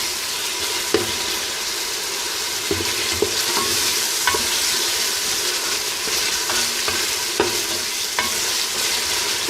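Small pieces of meat fry and sizzle steadily in a pot for a soup, with occasional stirring knocks and scrapes over a constant hiss, near and alone without speech.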